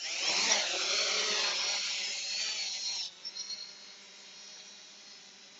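The motors of a FIMI X8 SE drone spin up with a faint, steady high-pitched whine that starts strong, then eases after about three seconds into a softer, even hum.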